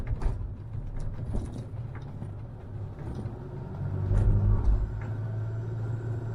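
A black cab taxi's engine rumbles steadily while driving, with mechanical clatter and a low drone that swells louder toward the end.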